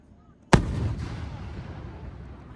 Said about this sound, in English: These fireworks are huge.